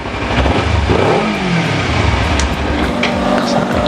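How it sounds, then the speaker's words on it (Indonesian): Sportbike engine, larger than a 250cc, revving loudly and continuously nearby, a dense roaring drone with a rising and falling pitch sweep. "Kalau bro dengar di sini secara langsung, suara mesinnya itu sedikit beda daripada yang 250cc."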